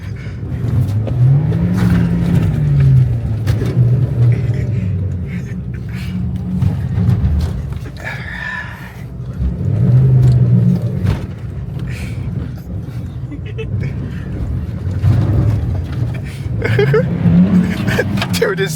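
A front-wheel-drive car revs hard and slides its back end out, engine note rising and falling in repeated surges close by, with excited voices talking over it.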